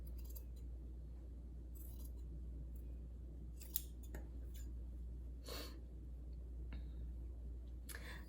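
Scissors cutting through a shirt, giving a series of short crisp snips spaced irregularly over a low steady hum, close and fairly quiet with no speech.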